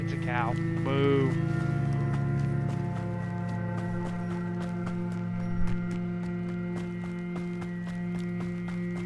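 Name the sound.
cow mooing in the video game Hogwarts Legacy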